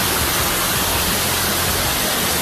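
Waterfall at Cachoeira do Arruda, a loud, unbroken broadband roar of falling water filling the whole moment with no other sounds.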